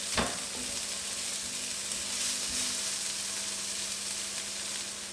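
Onion and garlic sizzling in a pan before aubergine is added: a continuous close frying hiss at an even level after a brief knock at the start, with no talking.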